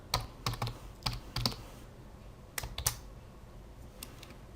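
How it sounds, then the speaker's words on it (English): Keys tapped on a computer keyboard in quick irregular bursts, close and fairly quiet, with short pauses between clusters of strokes and no talking. "I can type student"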